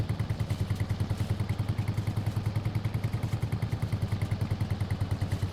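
A 12 horsepower tractor pulls a windrower in Farming Simulator 22, its small engine chugging in a fast, steady, even pulse with a clattering mechanical rhythm and no talk.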